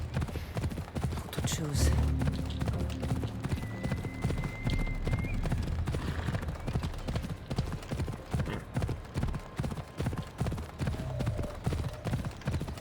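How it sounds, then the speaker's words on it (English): Horse hooves clip-clopping in Assassin's Creed Odyssey, a steady close rhythm of hoofbeats with a brief whinny early on and a voice speaking over them. "I need to take this horse either to Adonis or to the stable boy."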